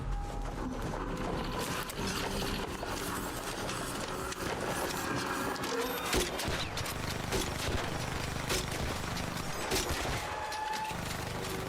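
Turret gunfire in the video game ARC Raiders crackles in dense, continuous bursts of rapid shots layered with mechanical clatter, sustained and loud throughout.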